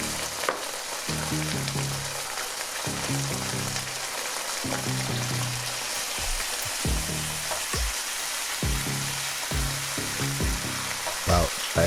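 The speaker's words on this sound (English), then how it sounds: "Now, we're adding in approximately a 1/4 cup of oyster sauce." Sous vide pork in gravy sizzling in a hot pan as oyster sauce goes in, a constant close hiss with repeated low scraping strokes of a spatula in an uneven rhythm, no voices.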